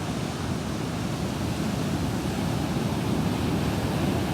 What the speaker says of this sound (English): Got the tide coming in.